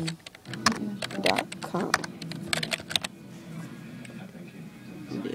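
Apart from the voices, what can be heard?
typing on computer keyboard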